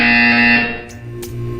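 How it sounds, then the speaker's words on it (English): A loud, harsh electronic buzzer in the Portal 2 video game sounds for about half a second, then fades into a lower hum broken by short clicks. "You will hear a buzzer."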